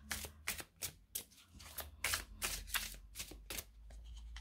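A deck of tarot cards is shuffled in quick, repeated riffling bursts, about a dozen short crisp rustles close by in a quiet room.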